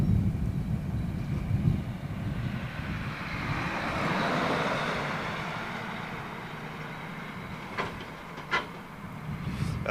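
A KC-135 tanker set up for probe-and-drogue refuelling climbs out from RAF Fairford, a broad, steady jet roar that swells toward the middle and then slowly fades, with a couple of brief sharp clicks near the end.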